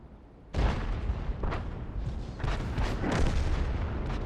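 Artillery fire in a video game: a sudden heavy boom, followed by a rolling, rumbling blast texture with further muffled impacts, loud and close, with no speech.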